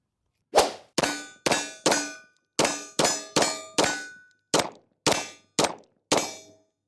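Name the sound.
Beretta 92D pistol fast firing at steel silhouette target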